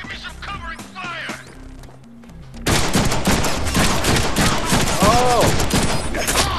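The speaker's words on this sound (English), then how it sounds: "Give me some covering fire." Gunfire from the Deadpool video game: after a quieter stretch with scattered shots and a voice, dense rapid bursts of automatic fire erupt and continue loudly to the end.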